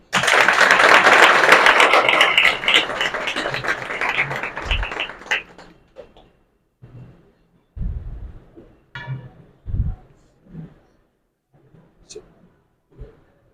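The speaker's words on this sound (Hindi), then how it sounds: "सलमा मैम के लिए भी जोरदार तालियां।" An audience at a success-story talk about a village-born income tax officer bursts into dense applause for about five seconds, which thins out into scattered claps and quiet stretches.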